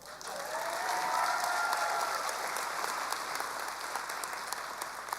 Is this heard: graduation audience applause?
yes